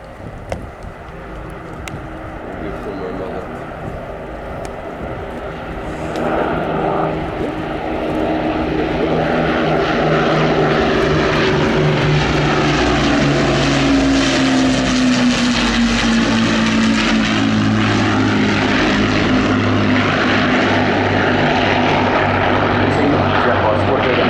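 An Avro Lancaster bomber of the Battle of Britain Memorial Flight drones overhead, its propeller engines building from a distant hum into a loud, sustained roar with a falling pitch as it passes, while a voice talks over it.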